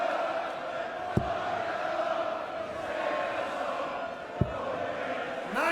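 Steady roar of a large arena crowd at the 2013 World Darts Championship final between Phil Taylor and Michael van Gerwen, with a few sharp whistles and shouts.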